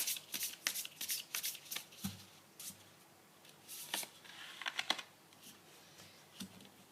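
Tarot cards are shuffled and laid out close up, giving quick crisp riffling bursts with soft slaps and slides between them and no talking.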